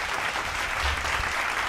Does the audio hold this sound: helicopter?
no